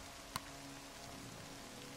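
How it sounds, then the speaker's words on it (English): Rain falls steadily in the Alberta woods, a soft, even patter throughout, with one brief knock near the start and no talking. "As long as this rain doesn't get too bad for the camera"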